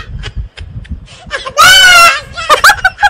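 A child imitating a goat's bleat with a wavering, drawn-out cry, loud and close, between bits of adult talk and small noises.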